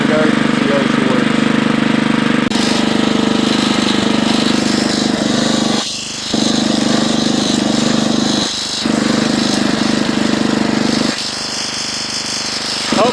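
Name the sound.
Husqvarna FT900 rototiller engine running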